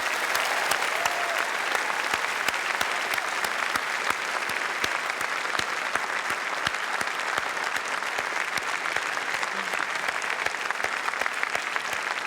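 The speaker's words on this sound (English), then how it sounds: "Please thank our special guest, the Opposition Leader, Bill Shorten." A studio audience at a televised Q&A election broadcast in Monash University's Robert Blackwood Hall applauds steadily for twelve seconds, a dense, even clatter of many hands without a break.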